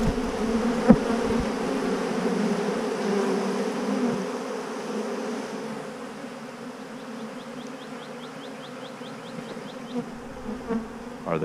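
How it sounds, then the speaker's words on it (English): Honeybees feeding on a two-to-one sugar water mix hum in a dense, steady buzz, close and continuous, with a few light knocks and clicks nearby. "The bees are working pretty hard here."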